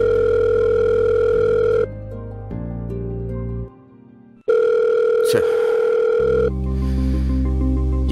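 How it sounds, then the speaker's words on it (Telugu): A telephone call rings out unanswered as loud, steady electronic tones in several distinct segments that shift in pitch and pause, with no voices. "ఫోన్ కూడా లిఫ్ట్ చేయడం లేదు."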